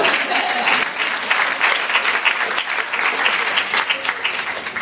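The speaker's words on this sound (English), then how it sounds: "So a big hand of applause for all of that." Audience at a panel event on ending child marriage gives dense, sustained applause, steady and loud throughout with no talk over it.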